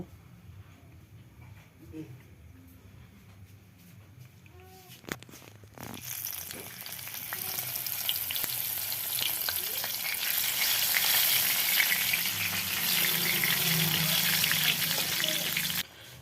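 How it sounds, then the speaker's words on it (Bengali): Chilies for an amra pickle hit hot oil after a quieter stretch with some talking and clatter, then a loud, dense frying sizzle fills the rest of the clip before cutting off at the end. "এখানে তেলটা যখন গরম হয়ে যাবে তখন এখানে লঙ্কাটা একটু হালকা করে ভেজে নিব।"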